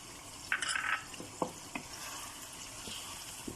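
Biryani masala and chili powder roast in a pan for Bombay-style chicken biryani, a soft steady sizzle broken by several scraping and tapping strokes of a spoon against the pan, close and quiet with no voices.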